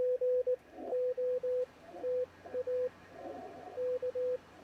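Morse code CW signal on a ham radio receiver with heavy DSP noise reduction: steady, faint beeping tones in short and long bursts, with brief crackles of residual atmospheric noise between them.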